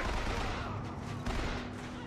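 A possessed machine gun firing in BioShock Infinite, dense continuous rapid gunfire filling the whole stretch, loud and steady with battle noise around it.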